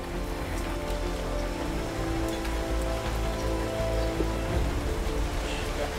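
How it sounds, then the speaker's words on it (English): Monsoon downpour on a jungle road, a steady dense hiss of heavy rain drumming on surfaces, close and constant throughout with no talking. "the expected monsoon deluge has just begun"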